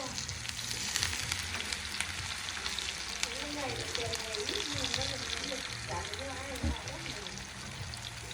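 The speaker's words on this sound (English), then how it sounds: "The aroma of the stir-fried frog wafts through the kitchen." Frog stir-fried with soybean paste sizzles and crackles steadily in a pan, with faint scraping of stirring and a low running-water trickle underneath, a busy kitchen bed of sound throughout.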